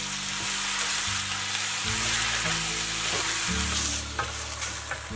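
Green tomatoes stir-fried with scallion, garlic and chili in hot oil in a home kitchen wok give a loud, steady sizzle that runs the whole time. A low hum sits underneath, and no one speaks.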